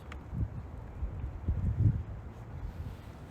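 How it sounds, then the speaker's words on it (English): Strong wind on a Hamburg street rumbles and thumps against the microphone in uneven gusts, with a faint wash of passing cars behind it. "it's very windy today, and in the background you hear some car noises, cars passing by"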